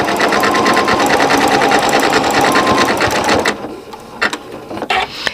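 Close and loud, a sewing machine stitches a coiled rope bowl in a fast, even rattle of needle strokes, then stops with a few short mechanical clicks and thumps as the work is pivoted.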